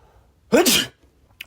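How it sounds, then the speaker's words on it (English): A single loud sneeze bursts out after a quiet moment, sharp and close, followed by a faint click. "I'm gonna sneeze."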